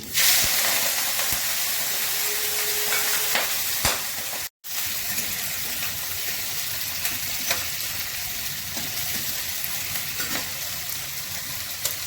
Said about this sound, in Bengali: একটা শুকনো লঙ্কা দিলাম তেজপাতা দিলাম পাঁচফোড়ন করছি চিংড়ি মাছ দিচ্ছি